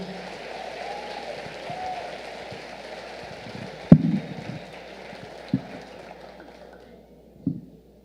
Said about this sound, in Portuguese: Você pode aplaudir bem forte pela vida dessas pessoas?